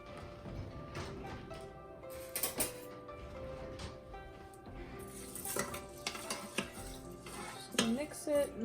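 A utensil scrapes and clinks against a pot while stirring rice and water, with uneven knocks and rustles continuing throughout.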